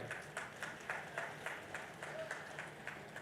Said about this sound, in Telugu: గట్టి క్లాప్స్ కొడదాం